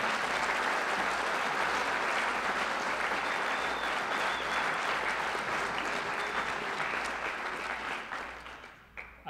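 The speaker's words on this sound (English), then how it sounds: "ask for another round of applause for all of our recipients tonight" Sustained, dense applause from a large audience at a community service awards ceremony, honoring award recipients; steady clapping throughout that thins and fades near the end, with no voices over it.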